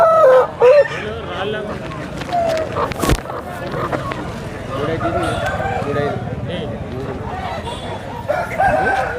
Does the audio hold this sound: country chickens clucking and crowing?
yes